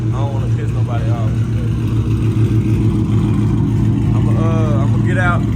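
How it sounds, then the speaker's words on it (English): A 2015 Chrysler 300 Hemi V8 fitted with BBK long tube headers idles and revs to about 2,000 RPM, a loud, deep, close rumble, while someone talks over it at the start and end. "Pretty loud, I ain't gonna lie, but that's only like a 2K RPM rev"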